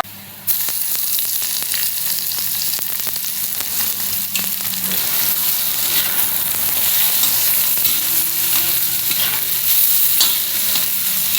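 Steady, close sizzling of onion frying until reddish on an iron pan, with occasional stirring scrapes and soft crackles throughout, no voices.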